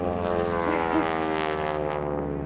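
A propeller airplane engine drones steadily during an aerobatic barnstorming flight with a wingwalker, a loud continuous hum with rich harmonics and slight pitch wavering over a couple of seconds.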